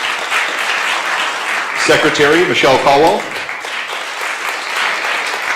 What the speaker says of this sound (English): So if I could get a round of applause for our council members here.